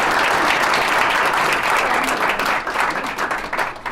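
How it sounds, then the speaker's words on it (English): An audience at a UN headquarters art exhibition reception applauds its panelists with dense, steady clapping that thins out toward the end. "please a round of applause for our panelists"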